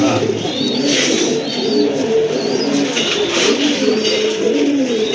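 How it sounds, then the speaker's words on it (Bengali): Gola pigeons, a pair kept at a pigeon seller's, coo in a low, steady murmur that runs throughout, with a few higher bird calls and someone talking nearby. "মাশাআল্লাহ, আরেক জোড়া গোল্লা কবুতর এখানে"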